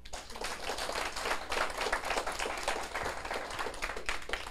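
Audience clapping at a Taiwan civil government lecture, a steady wash of many hands lasting several seconds, fairly faint with a little talk mixed in.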